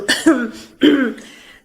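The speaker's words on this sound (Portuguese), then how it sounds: "Tô aqui conversando, dou uma tosse, e dá outra tosse" Two separate coughs, close and fairly loud, with a short pause between them and silence after.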